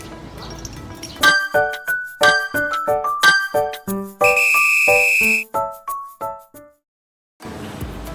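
A shrill whistle sounding a sequence of short and long tones in a deliberate coded rhythm, with pauses between groups, loud and close.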